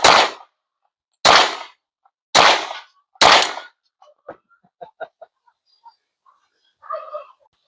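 Four loud, sharp gunshots from a .45 revolver fired with cowboy action loads crack out at about one-second intervals at an outdoor range, followed by faint clinks and distant chirps.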